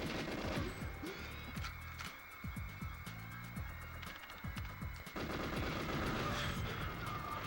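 Gunfire from the video game GoldenEye: rapid automatic bursts and single shots crackle through a busy low rumble, fairly quiet overall, with rhythmic volleys repeating across the clip and no talking over them.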